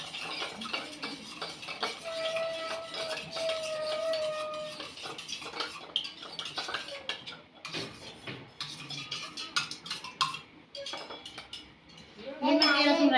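Spoon stirring lemon juice in a vessel, continuous scraping with light clinks of metal against the container, and a louder clatter at the end.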